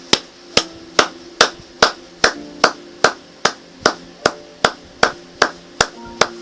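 A church congregation claps in a steady, even beat, each sharp clap evenly spaced at a brisk tempo, loud and close, with no voices standing out.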